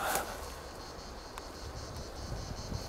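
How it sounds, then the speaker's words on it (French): A steady, faint buzzing drone of cicadas filling the background, continuous and outdoorsy, in a French woodland, with a brief sharper sound at the very start. "Et on entend les cigales ici, à cet endroit."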